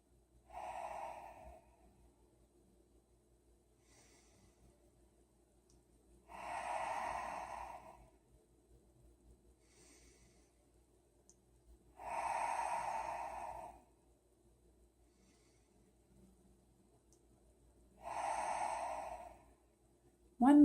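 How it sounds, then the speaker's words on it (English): Ujjayi yoga breathing: four slow, deep, audible breaths in through the nose and out through the mouth, evenly spaced with quiet pauses, close and soft with no talking. "Coming into our Ujjayi breathing for 5 deep breaths."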